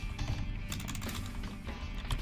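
Steady clatter of keys on a computer keyboard as a Linux terminal command is typed, a dense run of close, quick clicks with no voices.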